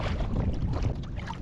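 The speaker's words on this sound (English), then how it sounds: "It's been so windy today" Strong wind roars steadily across a cold lakeside canoe campsite in the Adirondacks in fall, a dense low buffeting rush that holds close and loud the whole time with no voices.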